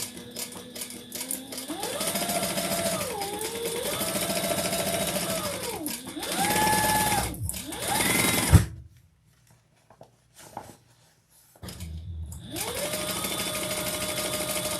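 A sewing machine stitches the seams of a leather tote, running in several loud bursts whose motor pitch rises and falls as it starts and stops at corners, with a quiet pause before stitching resumes.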